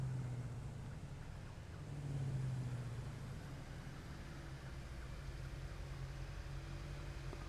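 A tractor in Satisfactory labours slowly up a steep ramp, a low, steady engine drone with a brief swell in the middle, moderately distant and alone with no speech.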